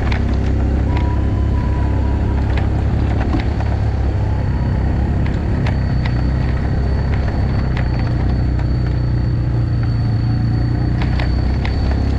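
A Toyota Fortuner straining uphill on the Muaro Aie road drones with a steady low engine rumble that holds for the whole stretch. Faint clicks and knocks rise now and then above the constant hum.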